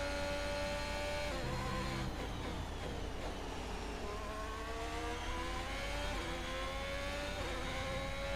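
A Formula 1 race car engine in a racing video game screams at high revs, pitch climbing and dropping through gear changes and corners, loud and continuous with no talking.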